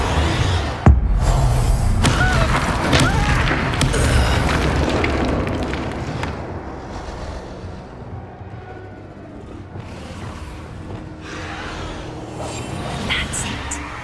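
A Bombarda blasting spell explodes in Hogwarts Legacy: a sharp, loud boom opens, followed by a long rumbling blast and debris, with a voice calling the spell's name over the top.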